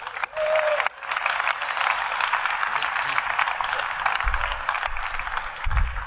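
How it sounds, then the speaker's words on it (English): An audience at the DEF CON 20 hacker convention breaks into sustained applause that fills the room throughout, with a brief tonal blip at the start. "please give him a big round of applause"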